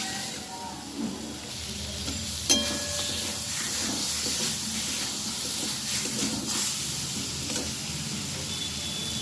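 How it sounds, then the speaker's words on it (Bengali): Tomato paste and masala spices sizzling steadily in hot oil, a continuous close frying hiss with occasional crackles and a faint stirring clink. "এবারে আমি টমেটো বাটাটা দিয়ে দিচ্ছি, দিয়ে আমি ভালোভাবে মশলাটা কষিয়ে নেব।"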